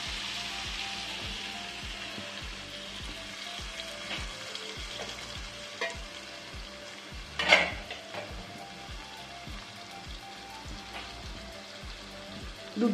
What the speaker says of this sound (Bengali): এবার আমি নারকেলের দুধটা দিয়ে দিচ্ছি,